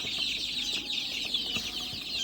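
A flock of 28-day-old native chicks chirps and peeps busily in a steady, high-pitched chorus, fairly close, with soft scuffling underneath.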